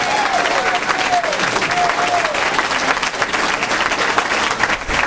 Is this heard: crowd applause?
yes